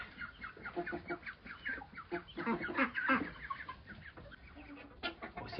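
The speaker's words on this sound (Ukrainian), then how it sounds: "Повна загорода птиці." A flock of poultry in a pen clucking and squawking busily together, many overlapping calls at close range with no talking.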